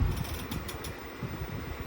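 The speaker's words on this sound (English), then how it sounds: "oh, the compressor just turned on" A 1935 refrigerator's compressor runs with a low, steady mechanical rumble and a faint rapid clatter, close and alone.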